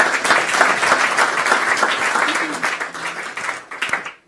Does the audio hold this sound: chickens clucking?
no